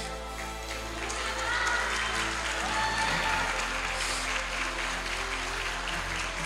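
Sustained applause from an audience at an award ceremony in Paestum, a dense, steady patter of many hands continuing evenly throughout without voices.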